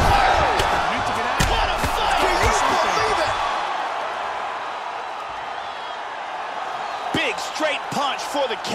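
A knockout punch in the EA Sports UFC 3 video game on PlayStation 4 brings a loud virtual arena crowd roar that swells, eases, then rises again with sharp hits, while a commentator talks over it.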